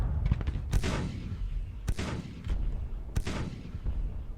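Civil War artillery cannons in Grand Tactician boom three times at irregular intervals over a steady low battlefield rumble, each shot a sharp blast with a short echoing tail.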